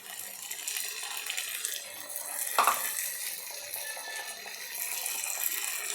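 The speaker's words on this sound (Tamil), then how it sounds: "தண்ணி சேர்த்துக்கலாம்." Water is poured into a pot of brinjal tamarind gravy (ennai kathirikai kulambu) in a home kitchen, making a steady close splashing and trickling wash with one brief louder splash partway through.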